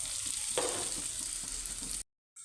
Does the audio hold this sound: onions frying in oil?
yes